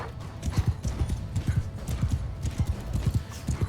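Horse hoofbeats from the Mount & Blade II: Bannerlord video game thud in a steady galloping rhythm, muffled and mid-distance, continuing throughout with soft battle noise around them.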